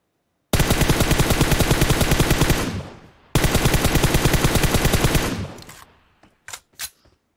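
Two long, loud automatic gunfire bursts in the video game PUBG Mobile, rapid evenly spaced shots close by, followed by a few isolated single shots after a gap.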